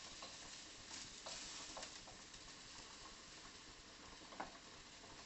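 Beans and thin steak stir-fry in a hot pan, a steady close sizzle with intermittent scraping stirs and one sharper clack near the end, no talking.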